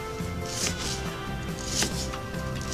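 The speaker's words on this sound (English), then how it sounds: "We're going to do that for the entire onion, and then we're just going to cut it this way." Close, rhythmic chopping of an onion with a knife on a board, a few crisp cuts against a steady background hum.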